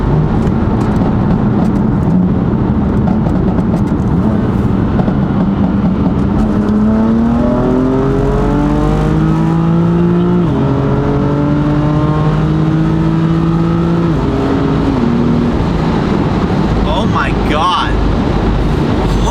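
A stage 2 tuned BMW M4 accelerates hard, its engine note climbing loudly and steadily, then dropping sharply with quick downshifts before surging again. The engine sound is close and continuous from the cabin.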